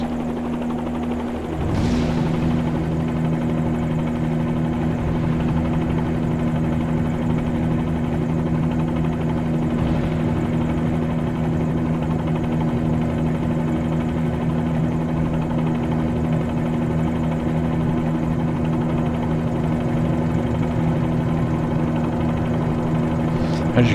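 A simulated helicopter in Microsoft Flight Simulator 2020 drones steadily near the Antiquers airfield runway, its engine and rotor giving a constant loud hum with a strong low tone and little change throughout.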